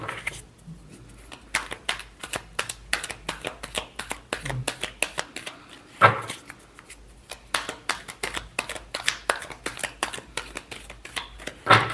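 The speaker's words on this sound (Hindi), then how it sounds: "last shuffle" Tarot cards are shuffled by hand in rapid bursts of crisp riffling flicks, close and moderately loud, with brief pauses between rounds.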